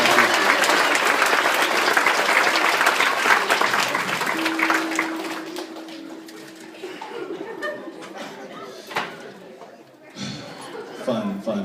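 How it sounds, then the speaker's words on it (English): Applause from a stand-up comedy audience starts loud and dense, then thins out over several seconds into scattered claps, a few voices, a sustained tone and some laughter. "Give him a round of applause."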